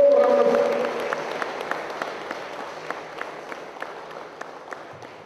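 A municipal audience greets the mayor of Saldanha Bay with scattered, light clapping that thins out and fades over several seconds, following a short stretch of speech at the start.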